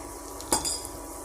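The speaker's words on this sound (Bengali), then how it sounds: "এটা একটু নাড়বো আর একটুখানি এটা কষাবো" A spoon scrapes and clinks against a pan while turmeric and chilli powder masala is stirred and sautéed for a fish curry, one sharp scrape over a faint background sizzle.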